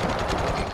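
Heavy machine gun (the 43 or 46 mod 1) firing in the PS3 online shooter MAG, a dense, continuous burst of rapid shots with steady loudness through the whole short stretch.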